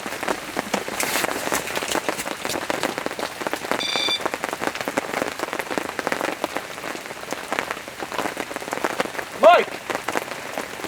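Heavy rain pelting down at a fishing lake, a dense steady patter of drops on surfaces, with brief faint voices in the background.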